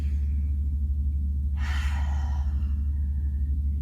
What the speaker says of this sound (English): take a nice big breath of earth air